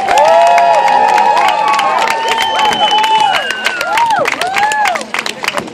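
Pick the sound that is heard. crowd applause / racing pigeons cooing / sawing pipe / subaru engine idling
crowd applause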